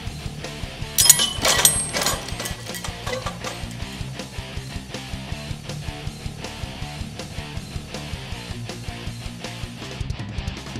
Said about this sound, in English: We'll drop the same 8-pound pipe wrench approximately 3 feet.